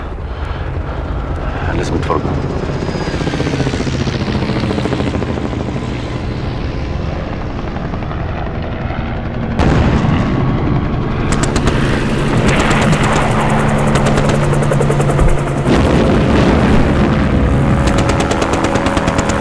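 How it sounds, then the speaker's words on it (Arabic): Warplanes roar overhead during an attack, a loud continuous engine drone with rattling bursts resembling gunfire, while someone shouts briefly over the noise. "طيارات"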